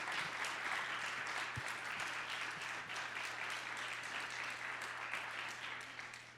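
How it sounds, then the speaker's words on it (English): An audience claps for panelists at the close of a discussion on documenting responsibly in the backcountry, steady, fairly distant applause that holds throughout and tapers slightly at the end. "Let's have a round of applause for our fantastic panelists today."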